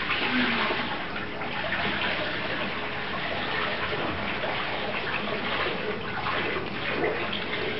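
Water gushes and splashes continuously at a steady, moderate level, a broad rushing pour with no speech.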